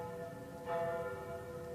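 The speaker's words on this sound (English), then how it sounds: "Bells are ringing from every church in the city." Church bells ringing across London, a steady sustained peal with overlapping tones swelling slightly, heard faint and distant with no talk.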